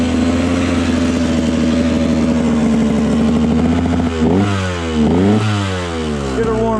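A dirt bike engine, electric started after choking, idles loudly and close with a steady throbbing drone, then revs up and down several times in rising and falling sweeps.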